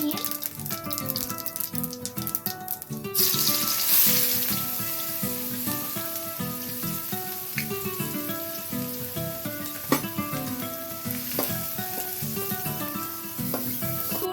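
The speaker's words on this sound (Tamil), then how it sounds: "ஜீரகம் பொரிஞ்சோடனே ஆனியன் போட்டிருக்கோம்." Onion dropped into hot oil with cumin seeds in a kadai, sizzling and crackling steadily and close, a bright frying hiss that swells after a few seconds and stays constant, with no talking.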